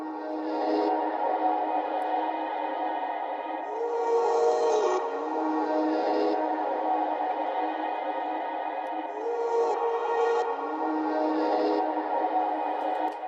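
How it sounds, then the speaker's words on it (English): Hazy, washed-out music with smeared, reversed-sounding swells and a steady sustained texture, continuous and fairly soft with no voices. "it sounds like this backward sort of hazy vibe"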